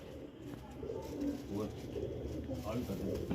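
A pigeon coos in soft, low, repeated throaty calls close by, with a voice talking intermittently over the cooing.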